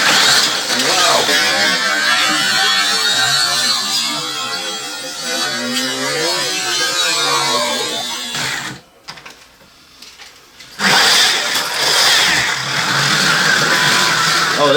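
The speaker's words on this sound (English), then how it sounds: "Oh, this car's howling like a banshee now." A 1/43 scale slot rally car motor howls at a high pitch as it laps a modified Carrera Go track. The whine is loud and sustained, cuts out briefly near the middle, then returns just as strongly.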